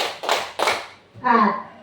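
Children in a classroom clap their hands in a counting game, giving a few separate sharp claps close by, followed by a brief voice.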